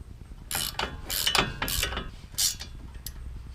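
Ratchet clicking as brake caliper bolts are tightened on a 2012 Land Rover LR2: several close, quick bursts of ratcheting with short pauses between them, no voices.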